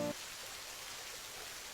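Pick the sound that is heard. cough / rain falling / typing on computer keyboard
rain falling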